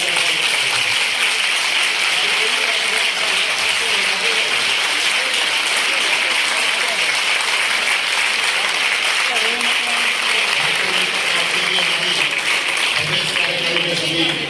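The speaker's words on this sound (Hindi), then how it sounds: "मैं आप सभी से निवेदन करूंगा एक बार जोरदार तालियां बजाकर" Applause at a BJP welcome event in Jind honouring Dr. Sudha Yadav, a steady, dense wash of clapping that carries evenly through the whole stretch with no break.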